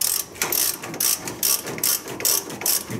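A socket ratchet tightening a tie rod nut on a Ford van or truck, clicking in quick repeated bursts of strokes, close and crisp with no talk.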